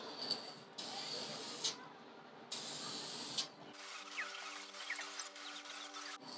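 Bursts of hissing spray from an aerosol can of clear coat on a guitar body, two long sprays separated by pauses, then a softer sputtering hiss with a faint hum.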